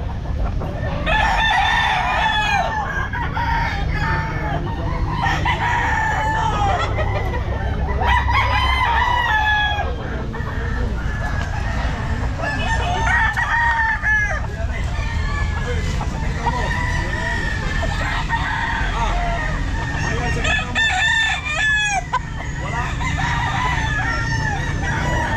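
Young roosters at a pet market crow loudly and repeatedly with long, drawn-out calls over constant clucking and flock chatter, close by and busy throughout, with faint crowd voices underneath.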